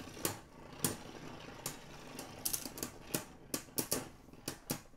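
Beyblade Burst spinning tops, including Curse Satan and the balance-type King Helios, clatter against each other in a plastic stadium, giving sharp irregular clicks and knocks over a steady whirring hiss.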